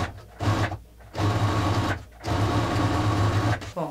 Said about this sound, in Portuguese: Eu tô utilizando aqui a Legacy C440 da Singer.